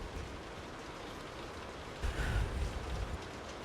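A radio-drama night scene has steady rain falling on surfaces, a soft even hiss with a heavier low rumble swelling briefly toward the middle, with no voices.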